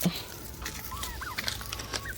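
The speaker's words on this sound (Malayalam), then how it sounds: "നമ്മുടെ കോഴിക്കുഞ്ഞുങ്ങളെല്ലാം ഇവിടെ ഉണ്ട്. വരൂന്നും പറഞ്ഞ് നടക്കുക നമ്മുടെ കഴുകക്കുട്ടന്മാർ, ടർക്കിക്കോഴികൾ." Chickens and turkeys clucking and calling at close range, with short chicken clucks and a turkey warble mixed in a busy home yard.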